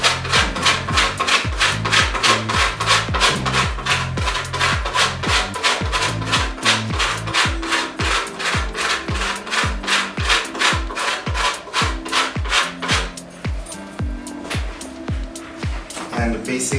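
Chocolate is grated by hand over a peppermint crisp tart, a fast rhythmic rasping scrape repeating dozens of times up close, slowing and thinning near the end.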